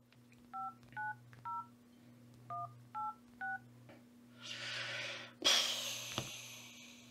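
A telephone dials six quick touch-tone beeps in an even rhythm over a low steady hum, followed by a burst of line noise and hiss as the call connects.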